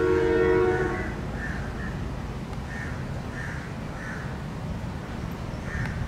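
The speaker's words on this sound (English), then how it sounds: "That's definitely a train." A train horn blares loudly at the start, then low rumbling of a passing train continues in Kalutara, Sri Lanka, with faint crow-like caws repeating above it.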